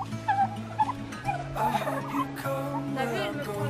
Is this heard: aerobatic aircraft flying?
no